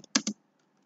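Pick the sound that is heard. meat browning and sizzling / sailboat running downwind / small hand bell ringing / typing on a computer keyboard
typing on a computer keyboard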